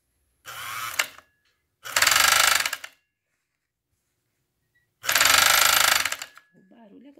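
A Chinese FN2-7D overlock machine with a fault runs in three short, loud bursts of harsh, rattling mechanical noise separated by silence, with a brief low voice at the end.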